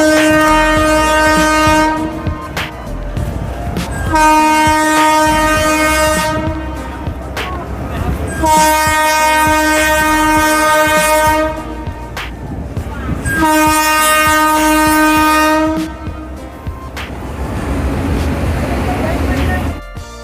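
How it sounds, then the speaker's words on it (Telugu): A train horn blares in long, loud repeated blasts over the steady rumble and clatter of rolling rail cars crossing an arch bridge, with a brief lull between blasts. "ఈ ఆర్చ్ బ్రిడ్జ్ మీద నుంచి ట్రైన్ వెళ్తున్న విజువల్స్ కనిపిస్తున్నాయి"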